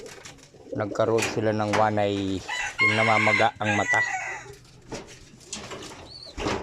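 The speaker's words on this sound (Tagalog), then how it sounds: "titignan natin yung ating mga ibon na" Pigeons in a backyard loft, some with swollen eyes, give repeated low cooing and bird calls close by, while someone talks over them throughout.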